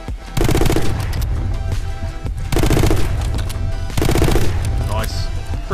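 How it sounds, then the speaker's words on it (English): Machine gun fire in the video game My Friend Pedro: three long, loud, dense bursts of rapid shots separated by brief pauses, with continuous game audio underneath. "With the machine gun, you can just maul them."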